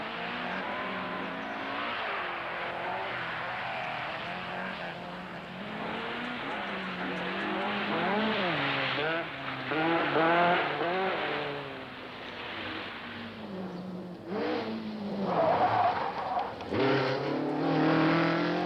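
Rally cars race on slippery Greek tarmac roads, engines revving and wailing through constant gear changes and corners, one loud close car dominating with pitch rising and dipping as it accelerates and brakes, no talk.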